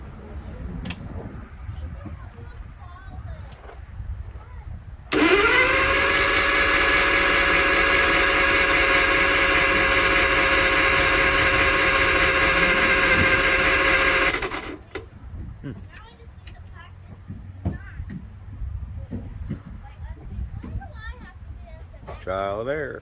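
An Allis Chalmers engine runs steadily for about ten seconds as gas flows through its pump, a loud, even mechanical drone that starts and stops abruptly, with quieter handling noises and a voice before and after.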